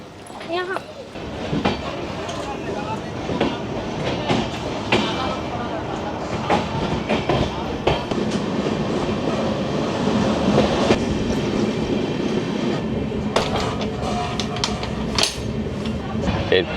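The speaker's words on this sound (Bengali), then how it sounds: "52 মিনিট লেটে চলছে ট্রেন" Inside a general coach of the 22587 Amrit Bharat Express passenger train running on rails, a loud, continuous rumble is punctuated by sharp clickety-clack wheel knocks at irregular intervals, with voices faintly in the background.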